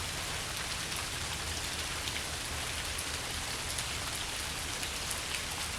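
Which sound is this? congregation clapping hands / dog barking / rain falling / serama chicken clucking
rain falling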